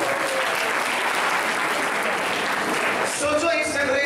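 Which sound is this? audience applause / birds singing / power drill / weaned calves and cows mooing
audience applause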